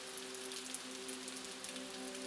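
Soft, steady rainfall pattering on a surface, with faint drops ticking over a continuous hiss and a low sustained tone humming beneath it.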